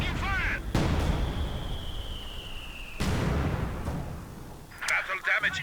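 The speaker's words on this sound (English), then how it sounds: "Mass barrages coming in from a double Suchka squad, and a mortar scoring a lovely hit on one of them" Artillery barrages and mortar hits in the strategy game Company of Heroes 2: heavy booming impacts and rumbling blasts, one with a long descending whistle, loud and sustained, with a voice talking over the battle.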